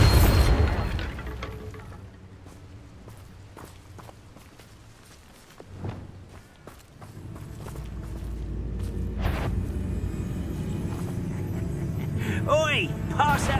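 A Bombarda explosion spell goes off in Hogwarts Legacy, a booming blast followed by a dense, noisy game soundscape with footsteps and a few sharp knocks. Game voices are heard at moderate level.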